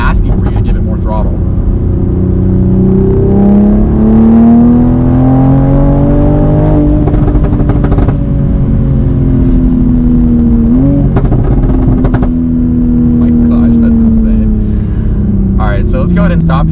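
A 500 HP Toyota Supra pulls hard under sustained throttle, its engine note rising steadily with boost building, loud and close from the cabin, with a brief dip and then another climbing surge, no speech over it.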